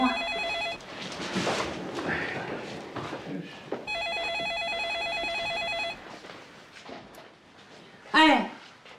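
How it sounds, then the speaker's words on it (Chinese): A telephone rings indoors in two long bursts of repeated electronic trilling, loud and close, with people talking over and between the rings in a domestic drama scene. "电话。"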